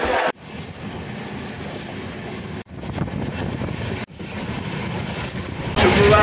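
The Karnataka Sampark Kranti express runs on its rails, a loud, continuous rumble and rattle of wagons with rhythmic wheel clatter, heard from inside and broken by brief abrupt dropouts.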